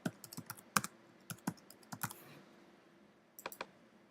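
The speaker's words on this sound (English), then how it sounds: "type in the current password and choose a new password" A computer keyboard typed on in quick irregular clicks while entering a password, close and crisp, with a brief pause before a final short burst of keys.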